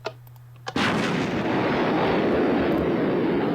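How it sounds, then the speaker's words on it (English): A Tier 3 missile in the Voltz mod game launches from a compact silo: two short clicks, then a sudden loud, sustained rocket roar that fills everything and holds steady to the end. "Missile goes down. This made quite a blast."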